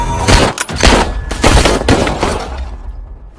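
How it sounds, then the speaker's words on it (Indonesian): Rapid gunfire from a police shootout in a film scene, loud, close volleys of overlapping shots and bangs firing in quick bursts for about two seconds before trailing off into quiet. "Tembak-tembakan pun terjadi."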